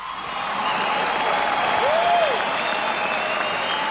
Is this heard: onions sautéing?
no